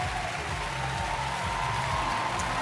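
Arena crowd at the 2019 gymnastics world championships in Stuttgart applauding after a men's all-around routine, a steady wash of clapping and cheering held at an even level from start to finish.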